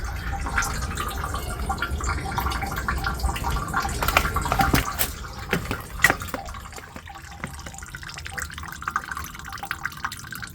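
Water gushes and splashes from the pressure relief valve of an iStore 270L heat pump, a loud, busy stream with drips and sputters that eases off toward the end, with a voice briefly audible.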